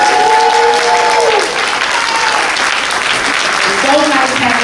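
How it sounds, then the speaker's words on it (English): An audience at a Baldwin Hills Elementary School celebration applauds a campus aide and DJ, loud continuous clapping that swells and dips, with a voice talking over it at the start and again near the end. "Let's give a round of applause for Mr."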